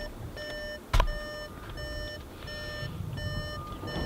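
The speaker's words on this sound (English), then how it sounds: "Excuse the beeping" Repeating electronic warning chime inside a 2019 VW Polo with its door open, steady evenly spaced beeps with a brief loud thump near the start and faint background rumble.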